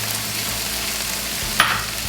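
Chopped scallions stir-fried in a pan for dan dan noodles, giving a steady close sizzle and crackle with a brief scraping stir near the end.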